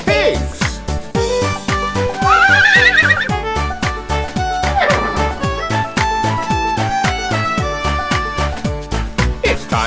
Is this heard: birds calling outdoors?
no